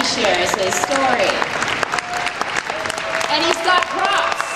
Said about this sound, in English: please give Mr. Riley Timmer a round of applause as he shares his story.